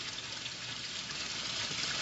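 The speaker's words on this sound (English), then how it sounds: "There's just something about the sound of water nice. that is so peaceful and so relaxing." Water pours steadily over the lighted spillway of a patio pond, a constant, close, full-bodied rushing splash that holds unbroken with no voices over it.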